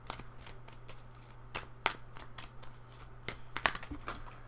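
A tarot deck shuffled by hand, a run of quick, crisp card flicks and slaps close up, quiet over a faint steady hum.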